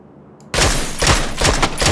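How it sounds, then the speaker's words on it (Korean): Gunfire in a video game erupts abruptly after a brief quiet start and rattles on as rapid, loud bursts of shots until the end. "어디서 쏘는겨?"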